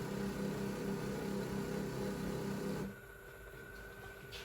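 A Nespresso Barista Recipe Maker whirs steadily on its hot foam setting, a close, even motor hum with a faint whine that cuts off abruptly near the three-second mark, leaving a quieter residual drone.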